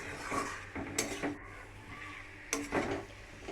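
A spice paste for egg curry is stirred and fried in a pan, with soft sizzling under repeated spatula scrapes and a few sharp metallic clanks against the pan, close and fairly quiet.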